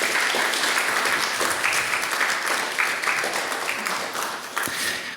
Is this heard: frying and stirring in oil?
no